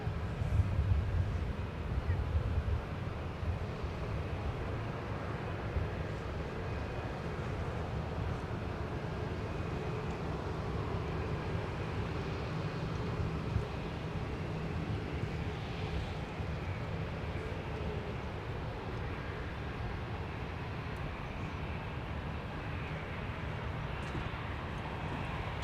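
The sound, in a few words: Icelandair airliner arriving at Minneapolis airport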